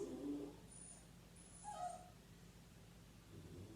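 Dogs whimpering and yipping indoors during a yoga class: a few short, thin whines spaced over several seconds, faint against a low steady room hum, with no talking.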